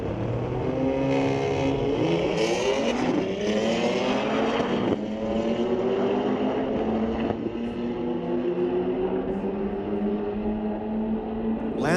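A 2025 BMW and a 2003 Lancer launch side by side at a drag strip, engines roaring loud and close, climbing through rising gear pulls and shifts before settling into a sustained high-speed drone.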